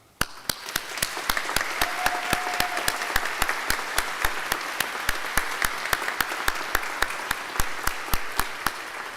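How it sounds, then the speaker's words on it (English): Graduate commencement audience applauding for about nine seconds, a dense steady wash of claps with a few sharp louder hits standing out, with no talking over it. "Will you join so we can salute them with our applause?"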